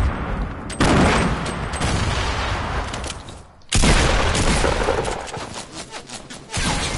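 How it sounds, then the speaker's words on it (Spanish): Bursts of rapid gunfire from a Fortnite match fill the mix, loud and dense, with a brief lull midway before the shooting resumes under excited players' voices. "Dispare, sigue disparando, aquí voy."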